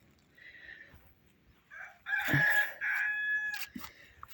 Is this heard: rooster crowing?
yes